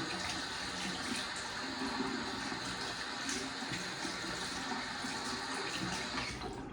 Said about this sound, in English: I'm going to rinse the face and we'll get into the splash.